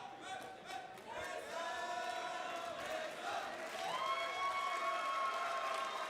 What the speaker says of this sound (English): You can hear the love that the crowd is giving to these guys.